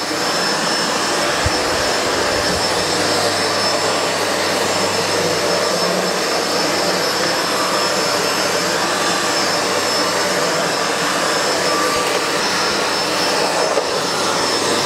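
A SEBO Felix upright vacuum cleaner runs steadily at close range, giving a loud, continuous whine and motor roar that holds level for the whole stretch without pause.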